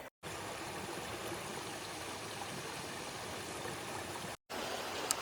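The Narinetskyi waterfall in the Ukrainian Carpathians rushes in a dense, continuous roar of falling water, heard close and steady with brief dropouts, no voices.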